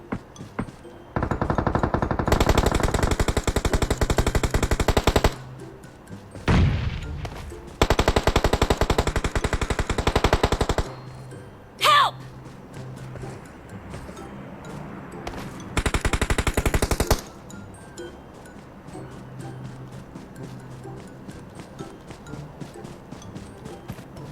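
Automatic gunfire in the mobile battle royale PUBG Mobile, several long loud bursts of rapid shots separated by pauses, with quieter footsteps and game sounds between them.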